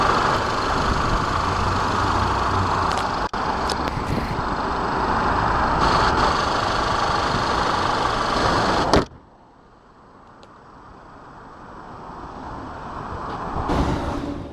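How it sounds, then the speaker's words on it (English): A 2014 Audi A5 2.0-litre turbo TFSI four-cylinder runs steadily with a broad, even engine drone for about nine seconds, then drops abruptly to a much quieter hum that gradually builds again toward the end. "the engine here is 2-liter turbo TFSI that produces 220 horsepower and 258 pound-feet of torque"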